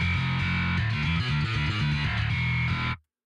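Gritty distorted bass layered with a clean sub bass in a drum mix, playing a steady riff of low pitched notes for about three seconds before cutting off abruptly.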